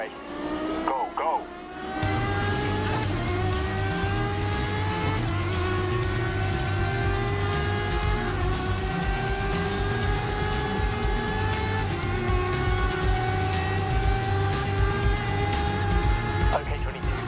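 Race cars in GRID Legends roar past and accelerate, engines whining through rising gear changes with a continuous loud racing drone lasting the whole stretch.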